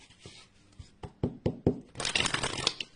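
Oracle cards handled and shuffled at close range, a few sharp snaps and flicks followed by a dense burst of riffling and rustling paper that trails off.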